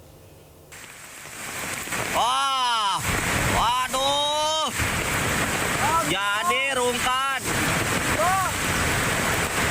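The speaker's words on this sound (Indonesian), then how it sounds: "Gak ada, terbawa arus sungai. Sangat deras, sangat sekali." A swollen, flooding river, the Cidadap in Sukabumi, West Java, rushes with a loud, continuous roar of churning water while several people talk and exclaim excitedly nearby.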